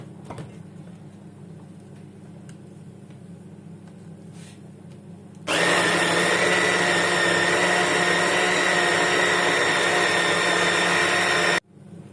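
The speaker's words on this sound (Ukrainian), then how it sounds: "не перегружати блендер." A blender grinding pâté ingredients switches on after a quiet kitchen stretch, giving a loud, steady high-pitched whirring grind for about six seconds before cutting off abruptly.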